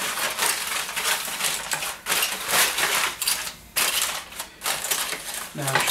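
Aluminum foil crinkles and crackles in bursts as it is pressed over a ham for baking, loud and close, with short pauses between the rustling stretches.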